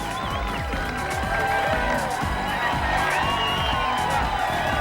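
Roadside spectators cheer and whoop at a 1993 10K road race, a loud continuous wash of crowd noise with overlapping shouts, while a commentator talks over it.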